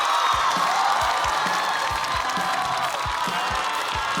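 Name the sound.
audience applause welcoming comedian Nora on stage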